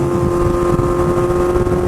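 A 2019 Kawasaki Z900 motorcycle ridden at a steady pace, with a loud, continuous engine hum and a strong steady tone, plus wind rush throughout and no talking.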